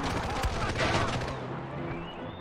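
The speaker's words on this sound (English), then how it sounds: "Because I'm getting shot at." Gunfire from enemies in Far Cry 4 amid mountainous terrain, scattered shots and crackling under a continuous wash of game ambience and engine-like drone, moderately loud and fading slightly toward the end.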